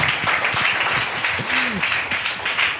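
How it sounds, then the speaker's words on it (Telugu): A congregation at a Good Friday church service claps loudly and steadily, a dense, continuous wash of hand claps that fills the whole moment with little pause. "గట్టిగా చప్పట్లు కొట్టు"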